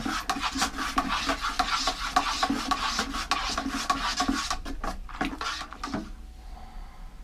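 A spoon scrapes and rubs steadily around a pot of honey oat red ale brew, a continuous close rasping stir that fades out near the end.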